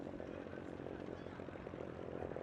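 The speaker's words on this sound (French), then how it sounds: "Cet avion, c'est un avion de voltige adapté au pilotage des personnes en situation de handicap." Propeller-driven Cap 10 BK aerobatic airplane, adapted for pilots with disabilities, running at the Paris Air Show, with a steady, loud engine drone throughout and a faint voice mixed in.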